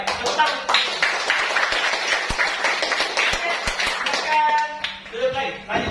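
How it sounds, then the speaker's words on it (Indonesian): Students in a mathematics classroom clap their hands together in a dense, lively round of applause for several seconds, with children's voices and chatter mixed in under the clapping. "Tepuk tangan."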